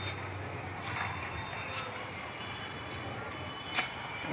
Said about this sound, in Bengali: এই যে প্লেন যাচ্ছে